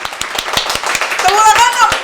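A few hands clap in a steady, sharp rhythm at a live podcast taping before a large audience, close and distinct, while a voice speaks over the claps.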